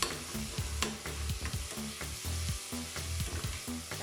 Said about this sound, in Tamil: தக்காளியுமே கொஞ்சம் நல்லா வதங்கட்டும்